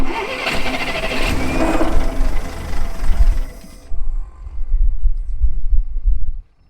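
A military vehicle engine cranks and roars into rough running, loud and close, then cuts out and restarts with a deep uneven rumble before stopping.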